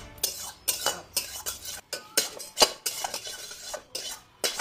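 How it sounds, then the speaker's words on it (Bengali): Pots, pans and metal utensils clatter loudly during home cooking in a kitchen, a rapid run of sharp, close metallic clanks and scrapes with no talk. "খেটার মেটার এত জোরে রান্না করে নাকি?"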